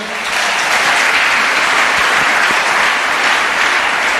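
A church congregation applauds continuously during a French-language sermon, a loud, dense, even wash of many hands clapping that holds steady throughout.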